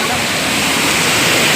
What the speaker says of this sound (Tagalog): Behind me is the first waterfall.